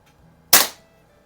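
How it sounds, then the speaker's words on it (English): A single sharp, loud crack from a Crosman 600 air pistol, fired once close by and fading quickly into quiet. "Shoot a couple shots with the 600 as well."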